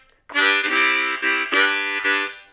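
Blues groove on a C harmonica: a bright, loud chugging rhythm of sustained chords, alternating blow and draw in about four pulses with short breaths between, played solo.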